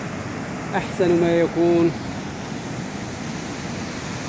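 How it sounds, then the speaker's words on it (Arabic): Sea waves wash onto a beach as a steady broadband roar that fills the whole stretch, while someone speaks briefly over it near the start. "أهلا بكم في البحر"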